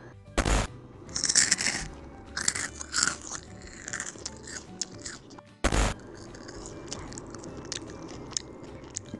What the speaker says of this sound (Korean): 바사삭 소리도 났어요